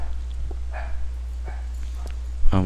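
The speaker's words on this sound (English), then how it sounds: "my puppies are barking" Puppies bark faintly in the background of a Minecraft game session, with a few short, distant yips scattered across the moment and a brief harmonic sound near the end.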